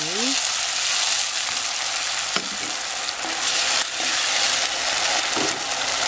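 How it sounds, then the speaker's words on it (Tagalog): Tomatoes and pork fry in a pan with a loud, constant sizzle, broken by occasional scrapes and clacks of a utensil stirring, heard up close without talking. "Lulutuin lang po natin itong tomatoes, then i-add natin yung ating pork."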